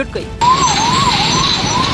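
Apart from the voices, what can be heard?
fire brigade vehicle siren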